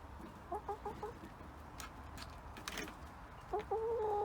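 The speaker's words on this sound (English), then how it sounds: "Happy chickens." Backyard chickens on an allotment cluck in short bursts, first briefly near the start and then again more loudly at the end, over steady outdoor background noise.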